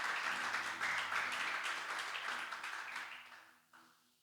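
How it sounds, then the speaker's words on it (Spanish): A church congregation applauds in worship, a faint steady wash of clapping that fades out toward the end. "te damos un aplauso glorioso al Dios que vive y que reinas por los siglos de los siglos"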